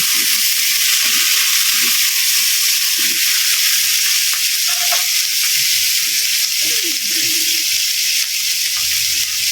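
Tomatoes sautéing in a hot pan for a tilapia dish, giving a steady loud sizzle throughout with a few faint soft scrapes beneath.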